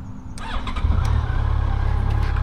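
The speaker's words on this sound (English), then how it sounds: "This bike started." A motorcycle engine starts up at a camper van during a lakeside RV camping trip, a brief crank giving way to a steady, loud, close idle that keeps running.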